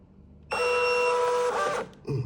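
A printer's mechanism whirs and hums steadily for just over a second while reading the paper size, then stops, followed by a brief second mechanical whir.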